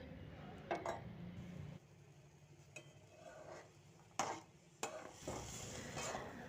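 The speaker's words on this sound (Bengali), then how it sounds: "ভালোভাবে কষিয়ে নিতে হবে" A spice paste of turmeric, chili, cumin and coriander powders, salt and ginger-garlic paste is stirred in hot oil in a pan for fried chickpeas and peas. Steady scraping and soft sizzling are broken by a few sharp utensil clinks against the pan.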